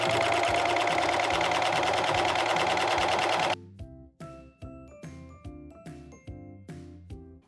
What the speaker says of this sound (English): And then you're just gonna be stitching right on top of the elastic.